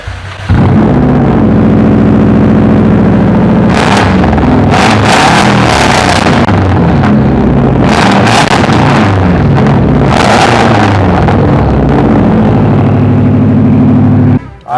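A powerful turbocharged car engine running about 26 PSI of boost revs hard several times, surging and roaring loudly with bursts of acceleration over a constant rumbling drone.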